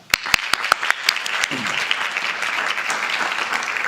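An audience at a school board meeting claps for the marching band staff. The applause starts with a few sharp, separate claps and swells into steady, dense clapping that carries on to the end.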